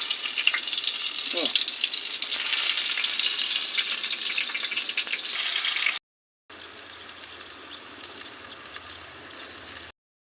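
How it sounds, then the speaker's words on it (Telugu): Stuffed brinjals fry in hot oil with a loud, dense crackling sizzle; after a short cut the frying continues more quietly with a low hum beneath. "ఇక నూనె కాలింది, ఒకటొకటి వేద్దాం"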